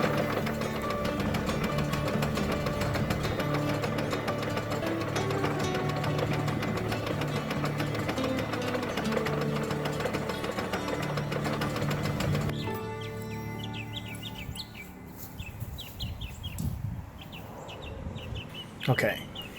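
A PTO-driven tiller runs in a garden with a steady, loud mechanical clatter and drone that cuts off partway through, leaving birds chirping and faint movement noise.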